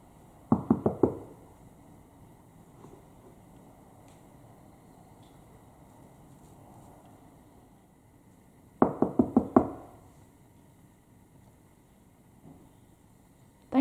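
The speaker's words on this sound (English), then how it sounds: "you've been doing some lovely banging in here" Knocking bangs inside a church during a nighttime ghost investigation: two quick clusters of three or four sharp raps, roughly eight seconds apart, ringing in a quiet, slightly reverberant room with faint background hiss and no talking.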